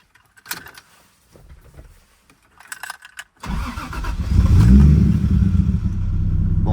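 A Toyota Supra turbo, already warm, cranks and fires, catching at once into a loud, rough idle that swells and then holds steady, preceded by a few soft clicks and knocks.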